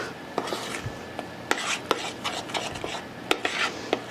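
A spoon stirs chopped salted peanuts into thick cherry mash fudge in a bowl, making close scraping and rubbing with sharp scattered clicks against the dish, with no talk.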